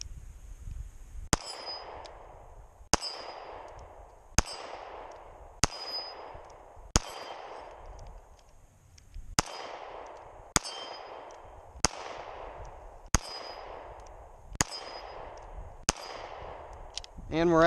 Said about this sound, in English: So let's take a few shots here and see if we can't hit.